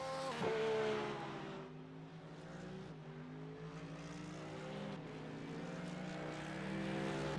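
A GT3 race car engine drones at Sonoma in a racing video game while the car enters pit lane, its harmonic whine rising and sliding in pitch, held at a moderate level throughout.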